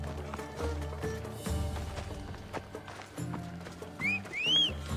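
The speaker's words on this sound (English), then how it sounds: "Horse." Horse galloping in the video game Assassin's Creed Odyssey, with clip-clop hoofbeats and a whinny rising over the game's music and effects.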